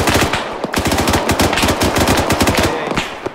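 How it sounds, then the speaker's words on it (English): Dense, loud automatic gunfire from ARMA 3 fills the clip: rapid overlapping bursts and single shots crack in a continuous barrage, as on a combined-arms battlefield where a downed Black Hawk crew takes fire from a hill. "he's getting shot at by the contact on the hill"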